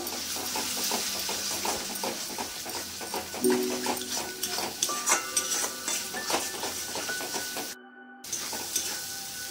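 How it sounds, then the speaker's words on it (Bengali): Spice paste sizzles and hisses in a pan while being sautéed with a splash of water for a Bengali bhetki fish and potato curry. The sizzle is steady and close, with stirring scrapes and a brief cutout near the end. "জল দিয়ে দিলাম একটু এটাও ভালো করে কষিয়ে নেব"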